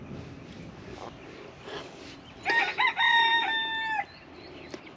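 A rooster crows once at mid-distance in a backyard garden, a few soft hen clucks around it, over faint outdoor background.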